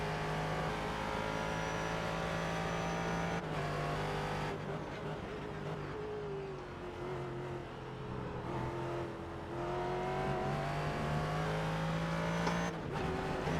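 V8 race car engines in the iRacing simulator drone and shift through gears, rising and falling in pitch with brief upshift breaks, loud and continuous with no talk over them.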